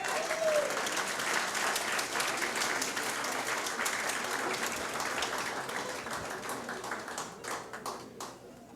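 Sustained applause from an audience at a family gathering, dense steady clapping that carries on loudly before thinning out toward the end.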